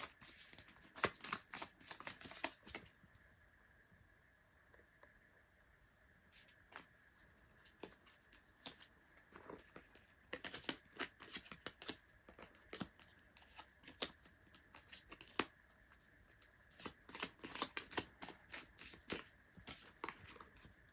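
A deck of tarot cards is shuffled in repeated soft, papery riffles and taps, coming in irregular bursts with short pauses, close and fairly quiet, with no talking.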